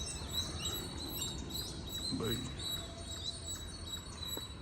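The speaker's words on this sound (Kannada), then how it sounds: "ಫುಲ್ಲು ಬೆಳಗ್ಗೆ ಬರ್ಡ್ಸ್ ಸಾಂಗ್ ಆಡೋಕ್ಕೆ ಶುರು ಮಾಡಿದ್ದಾವೆ" Faint, high-pitched bird chirps and thin whistles drift in from a distance over a soft, steady background hum.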